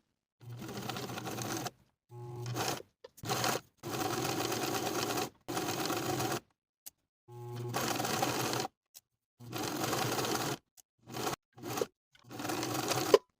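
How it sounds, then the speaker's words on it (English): A sewing machine stitches a cardigan hem close to the raw edge on the inside, running in about ten short, even bursts of buzzing with silent pauses between, heard up close. "Then I'm going to stitch close to the raw edge on the inside to hem"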